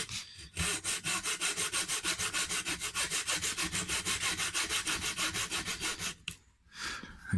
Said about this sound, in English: now I'm cutting it straight up and down and cutting it very shallow initially